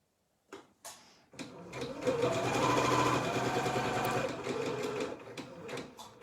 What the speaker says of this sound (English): I'm just going to push that seam allowance forward